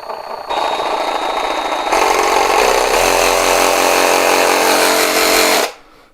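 A WOYOFADA cordless reciprocating saw, just reassembled, runs close and loud with a steady buzzing drone that steps up in intensity twice before cutting off and spinning down at the end.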